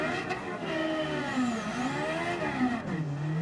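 In Gran Turismo 7, a Suzuki Vision GT mini LMP-style race car engine revs with a buzzing, rising and falling high-pitched drone, steady and close with no talk over it.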